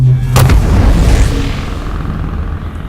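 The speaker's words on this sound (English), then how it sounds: "This one is the most physical one. It's the chain cannon." A Starfinder chain cannon sound effect from Syrinscape fires a heavy booming blast, with a sharp crack at the start and a rumbling tail that fades over a couple of seconds.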